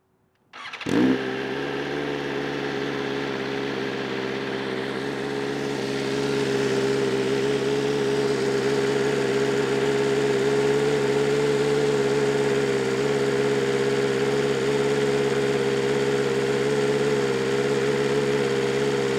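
A BMW S1000RR sport motorcycle engine cranks and fires up, then settles into a steady, close idle that rises slightly and holds, with no voices.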